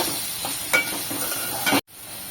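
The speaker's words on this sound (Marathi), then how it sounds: "एक मिनिट भर टोमॅटो परतून घेणार आहे" Chopped tomatoes sauté in a hot pan for a bombil fish masala, giving a close steady sizzle broken by a few sharp utensil scrapes before the sound cuts off abruptly near the end.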